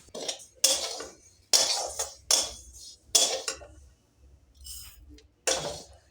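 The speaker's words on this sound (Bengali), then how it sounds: "প্রথমে ডালিয়াটা শুকনো করাতে একটু নেড়ে নেব মিনিট তিন চারেকের মতো" A spoon stirs broken wheat (daliya) in a dry pan over a low gas flame, giving repeated bursts of scraping, clinking metal that stop and start in an uneven rhythm.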